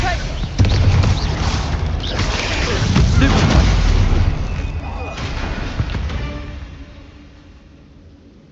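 A Confringo fire-blast spell from Hogwarts Legacy erupts in a loud, rumbling explosion that roars and booms for several seconds before slowly dying away, with a voice partly underneath.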